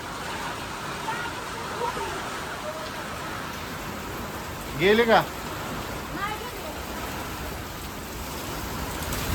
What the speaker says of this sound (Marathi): लयच पाऊस आला रे.